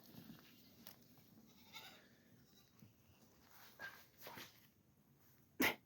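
Goats on a small woodland farm, including young kids, give several faint, scattered bleats over a quiet outdoor background, with one sharper louder call near the end.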